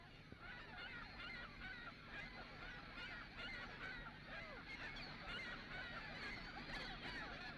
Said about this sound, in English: This is only a portion of the concentration of ring-billed gulls